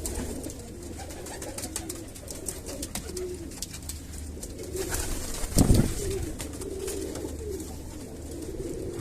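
Pigeons coo close by in low, soft, repeated calls over a background of light rustling and scattered bird sounds, with one brief louder burst of wing flutter partway through and no talking.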